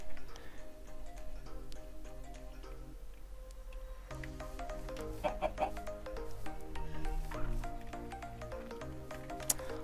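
Chickens cluck in Minecraft, a blocky video game, quietly and in scattered bursts under soft game music with ticking clicks.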